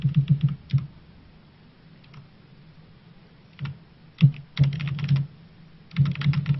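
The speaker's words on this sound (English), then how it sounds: "when I clickety-clack on my keyboard, it drowns you out" Bursts of computer keyboard typing, close and fairly loud, coming in quick clattering runs separated by short pauses, with no voices.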